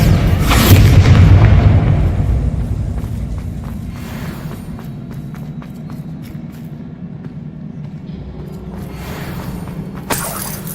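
Bombarda spell blast from Hogwarts Legacy bursts in a loud, deep boom with a shattering crack, then a long rumbling decay fading into quieter ambience and small clatters.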